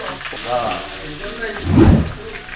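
Pork skin sizzling and popping in a pan after water is poured in while cooking Filipino pinakupsan, a loud hissing burst rising near the end over quieter kitchen sounds.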